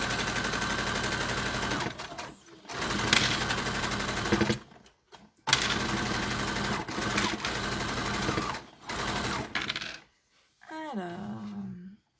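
A sewing machine stitches a spring chèche scarf in quick steady bursts broken by short pauses, close and clear, with a dog whimpering briefly at the end.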